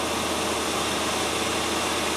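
A 1997 Land Rover Discovery 1 engine idles steadily at a slightly high speed. The low mechanical hum is even and continuous, heard up close and alone with no talking.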